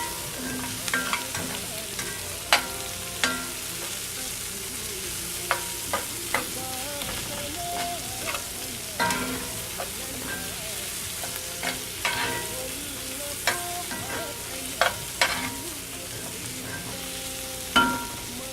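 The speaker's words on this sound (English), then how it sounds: "we'll let this cook for a couple minutes to allow the garlic and ginger to start to blossom" Garlic and ginger fry in a pan for a Nepali potato curry, making a constant close sizzle with scattered sharp clicks and scrapes of stirring. No voices can be heard.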